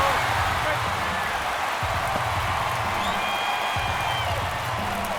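Baseball stadium crowd in the video game MLB The Show 23 during a tense ninth inning, a constant roar of fans under ongoing play-by-play commentary with a few thuds.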